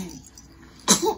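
A baby gives a short, sharp sneeze after a moment of quiet, with a brief breathy sound just after it, heard close by in a home setting.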